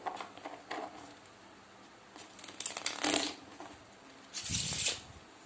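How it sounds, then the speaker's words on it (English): Cards riffle and snap together in several quick shuffles close to the mic, the last one longest and loudest, with no talking. "it will also be fair to me to also shuffle the deck"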